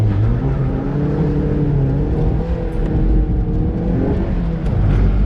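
Wide tires scrubbing on a 2007 Mazda Miata NC during an autocross run, a steady loud engine drone with a rising and falling tonal whine and a continuous rough roar of tire noise, no talking.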